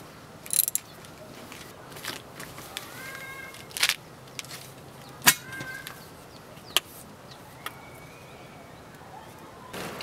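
Bolting down solar panel mounting bars produces quiet scattered ratcheting clicks and sharp metallic ticks, some in short bursts, spaced irregularly over a low background hum.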